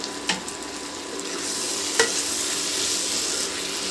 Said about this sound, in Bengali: আবারও আমি ভালো করে এটাকে নেড়ে দিলাম